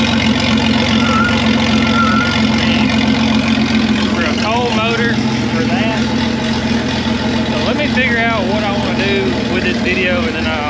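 A Jeep Cherokee 4.0 engine runs cold and unwarmed at a steady idle, a continuous low rumble filling the clip while a person talks over it.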